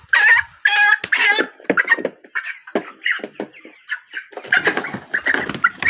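Broiler chickens about 27 days old cluck and squawk up close in a poultry shed, a run of sharp, irregular calls with short pauses between bursts.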